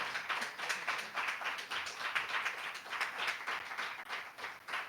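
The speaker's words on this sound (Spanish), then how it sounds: "Sí, un aplauso." A small audience applauds at a book fair event in Granada: moderately faint, fairly rhythmic clapping with repeated pulses, a modest crowd rather than a roaring one, steady for several seconds without talk.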